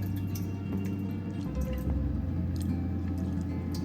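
Thick spaghetti sauce pours and drips into a pan, wet squishing and splattering close by over a low background hum.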